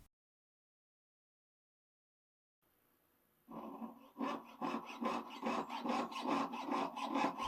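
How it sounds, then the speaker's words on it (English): A jeweler's saw with a 2/0 blade cuts the excess lip from a silver spoon handle, starting after a silent stretch, then settling into a steady, rhythmic rasp of close back-and-forth strokes with no talking. "I use a 2/0 saw blade in my jeweler saw, and I saw around to remove the excess lip that's on the handle of the spoon"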